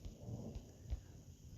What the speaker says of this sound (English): Thunder's just booming.